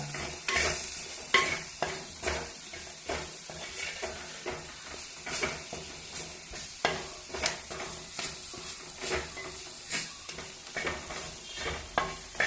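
Chilli, coriander and masala sauté in a pan for Kerala-style mutton curry, with a quiet sizzle and a regular series of scraping stirs repeating every second or so, close and without voices.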